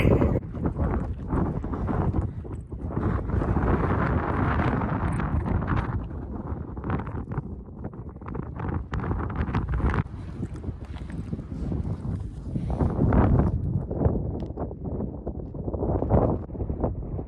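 Strong gusting wind buffets a bald mountaintop on the Appalachian Trail, roaring loudly and unevenly with heavy rumbling throughout, rising and easing in waves.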